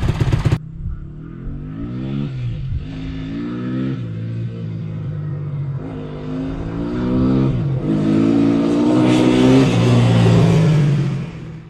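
A Honda ATC three-wheeler engine idles while warming up, a steady mid-pitched running note with a few gentle rises and falls in revs, growing slightly louder toward the end, with no voices.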